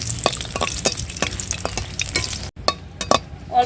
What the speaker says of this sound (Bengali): এবার শুকনা মরিচ ভাজতেছি